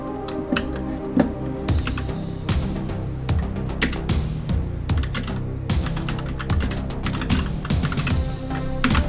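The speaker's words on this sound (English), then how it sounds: "Why am I typing this? I'm at a computer." Fast typing on a computer keyboard: dense bursts of crisp key clicks in an irregular rhythm, close and steady throughout, with short pauses between runs over a quiet background.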